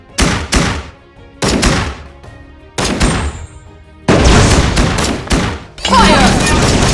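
Gunfire from a gunner character in the video game Legend of Ace comes in four loud bursts of rapid shots with short gaps between them, the later bursts longer and denser, with no talking.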